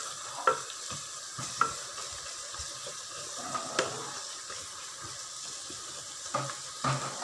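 Thin-sliced onions for chicken biryani sauté in a pan, a soft steady sizzle broken by several distinct spatula scrapes and clinks against the metal, close by and without speech.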